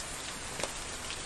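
Steady rain falling, a faint, even hiss of drops on a surface with no other sounds over it.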